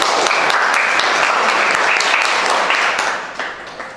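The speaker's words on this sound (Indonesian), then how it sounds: "kita kasih tepuk tangan" A classroom group applauds steadily with dense, continuous clapping that holds for about three seconds, then tapers off and thins out toward the end.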